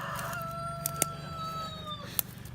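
A rooster crows in a long, drawn-out call, with a second bird sounding faintly in the background over a low steady outdoor hum.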